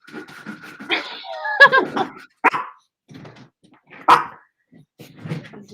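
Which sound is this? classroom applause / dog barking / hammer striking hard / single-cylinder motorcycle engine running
dog barking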